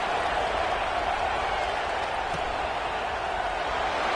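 The crowd at a Florida vs USC college football game cheers as a steady, dense roar with some applause mixed in, loud and unbroken throughout.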